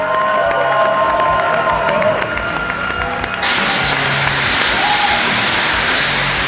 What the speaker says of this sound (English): Everybody, make some noise for Tim Tebow!